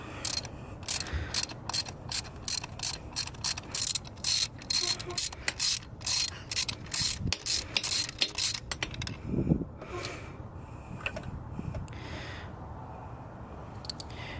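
A spark plug socket on a ratchet loosens the spark plugs of a Lexus IS300, making a steady run of clicking pawl strokes in rhythmic bursts that thin out into softer metallic fiddling near the end.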